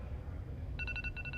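A phone-like electronic ringing tone pulses in quick repeated bursts in a studio, starting partway through over a low background hum, with no speech.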